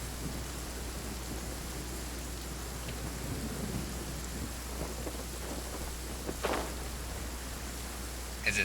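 Rain falling in the video game Genshin Impact, a steady, even hiss of downpour that fills the scene, with a few faint brief knocks near the end and no talking.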